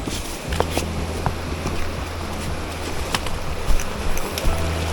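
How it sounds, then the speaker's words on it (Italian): A small mountain stream flows through snowy Alpine woods, a close continuous rush of water with scattered splashes and a few sharper knocks, no talking. "Fiumiciattolo."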